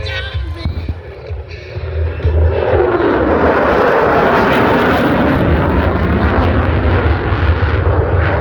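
An F-35C Lightning II jet at an air show, a powerful roaring rumble that swells in and holds loud and broad overhead, with a commentator's voice faint underneath.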